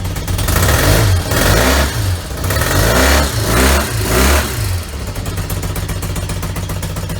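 A 1983 BMW R65 motorcycle engine, still a little cold, runs rough and lumpy close by, with uneven surging revs for about five seconds before settling into a steadier, irregular idle.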